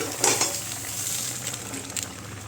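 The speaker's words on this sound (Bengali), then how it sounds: "এবারে মাছটা লাউয়ের তরকারির মধ্যে দিয়ে দেবো" Fish dropped into a bottle gourd curry that is sizzling in the pan, giving a steady frying hiss with a few soft splashes and stirring clatters near the start, close up and with no talking.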